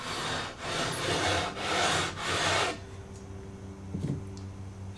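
A radius beam is drawn back and forth across a Stratocaster guitar neck fretboard in slow, rhythmic wooden rasping strokes, loud and close, then stops and leaves a low hum with a faint knock.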